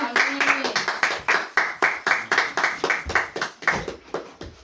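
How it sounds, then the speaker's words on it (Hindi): A crowd at a Christian worship gathering claps in a steady, rhythmic beat, about three claps per second, loud and close, slowing slightly toward the end; a brief voice opens. "जोरदार ताली बजाइए।"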